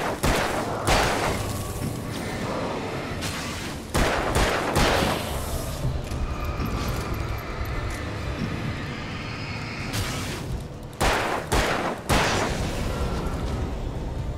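Gunfire in the video game Alan Wake, with loud repeated shots and blasts in separate bursts between steadier rumbling game sound, close and dominant throughout.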